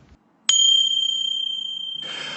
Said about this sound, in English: That bell was just to alert you that we're going to take a quick break